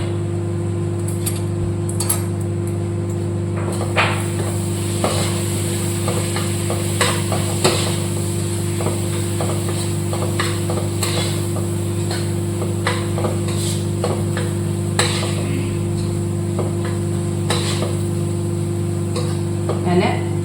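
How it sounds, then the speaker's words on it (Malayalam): Chicken frying in hot spice powders for chicken biryani, a steady sizzle under repeated scrape and tick sounds from stirring, close and continuous for about twenty seconds. "പൊടികളൊന്ന് ചൂടായതിന് ശേഷം നമ്മൾ ചിക്കൻ അതിലോട്ടിട്ട് അവിടെ കിടന്ന് കയറും"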